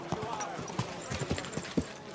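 Horse hooves clip-clop in a steady trot in the medieval game Kingdom Come: Deliverance II, a string of soft, fairly close thuds under a quiet background wash.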